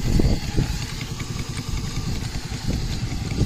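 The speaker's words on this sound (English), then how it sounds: "That's why I got the blower on to help burn it down." Steady low rumbling drone of the blower running on a Case steam traction engine to draw air through and burn down the firebox fire, continuous and fairly close with a faint clattering pulse and no talk.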